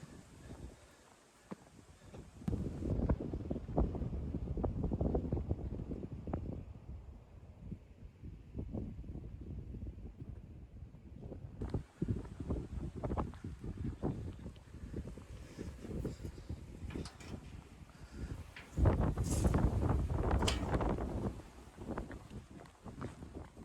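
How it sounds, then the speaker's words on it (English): Wind blowing across the open Cotswold hills south of Winchcombe, buffeting the microphone in loud, rough gusts that rise and fall, with a brief quieter lull partway through. "it's a bit of a breezy one today"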